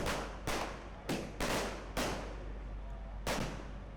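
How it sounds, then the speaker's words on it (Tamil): Diwali firecrackers and rockets burst in sharp, loud bangs, roughly six separate explosions spaced unevenly over a few seconds, each trailing off with a crackling decay against a low rumbling street background. "மத்தாப்பு, சங்கு சக்கரம், பூத்தொட்டி, ராக்கெட் உள்ளிட்ட வெடிகளை வெடித்து தீபாவளி பண்டிகையை மகிழ்ச்சியுடன் கொண்டாடினர்"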